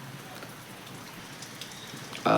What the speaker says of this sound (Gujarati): આ વરસાદ આવી રહ્યો છે